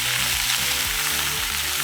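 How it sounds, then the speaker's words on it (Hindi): Sliced mushrooms sautéing with onions in a pan, a continuous loud bright sizzle with faint stirring scrapes, close by and without talk. "ये देखो मशरूम अब हम इसमें सौते करेंगे।"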